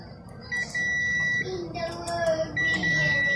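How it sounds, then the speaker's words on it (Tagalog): A continuity tester buzzing while checking a replacement fuse in a rice cooker under repair: a steady electronic buzz comes in short bursts, close by, with someone talking over it. "may buzzer na siya guys kasi napalitan na po natin ng bagong fuse"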